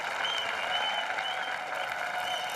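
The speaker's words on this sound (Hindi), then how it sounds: "इनके लिए जोरदार तालियां" Sustained applause from a TV comedy show studio audience, an even wash of many hands clapping at once, steady and fairly loud throughout.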